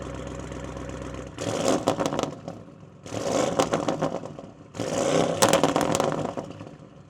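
A 1-of-1 green Audi RS6 tuned to 820 horsepower with a resonator-delete exhaust fires up and settles into a loud idle, then gets three sharp revving bursts. Each blip is crackly and aggressive and dies back to a burbling idle in between.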